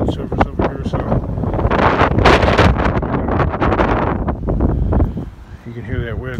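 Raw, cold wind blasts outdoors across the microphone in strong, rumbling gusts, loud and close, easing near the end while someone talks over it.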